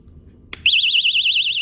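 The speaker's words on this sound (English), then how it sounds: "Also an alarm, basically a sound alarm and flashlight." A Damsel in Defense personal safety keychain alarm goes off after a sharp click, a loud piercing siren warbling rapidly and steadily up and down, close and continuous to the end.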